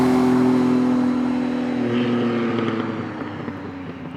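Lamborghini V12 engine drone, loud and steady at first with rising tones, then easing off and fading as the car pulls away; no speech.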